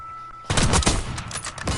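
A rapid burst of gunfire in a Call of Duty multiplayer sniper match erupts suddenly after a quiet moment, with sharp, closely spaced shots ringing loud and near with no talk over them.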